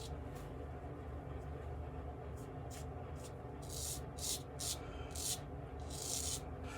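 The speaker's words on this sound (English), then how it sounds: "This razor is nice, but it's not quite as keen as that Japanese Kikuboshi that I used last time." Razor shaving strokes: a run of short, soft scraping bursts, faint and closely spaced in the second half, over a steady low background hum.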